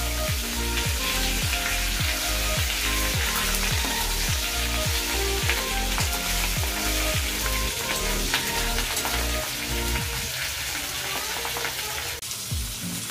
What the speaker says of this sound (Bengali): মাছের ডিমগুলো খুব ফাটছে, তার জন্য একটু ঢাকা দিয়ে দিয়ে করছি